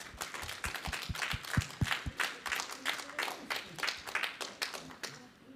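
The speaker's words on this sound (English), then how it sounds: "I'd say give another round of applause" An audience at a culinary historians' talk on community cookbooks claps, with distinct, fairly quick individual claps that sound like a modest group rather than a roaring crowd, at moderate volume.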